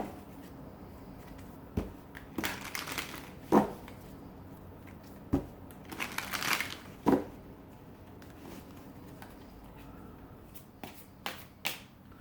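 Tarot cards being shuffled up close, with scattered short crisp snaps and riffles in separate bursts and quiet gaps between them.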